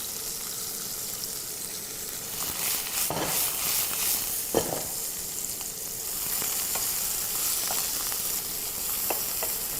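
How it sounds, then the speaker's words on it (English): Shiitake mushrooms frying in a pan give off a loud, continuous close sizzle, with occasional scraping stirs and soft pops breaking through the hiss. "And just fry it until it's nice and brown."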